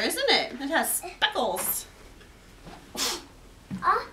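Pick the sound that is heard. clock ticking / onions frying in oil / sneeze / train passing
sneeze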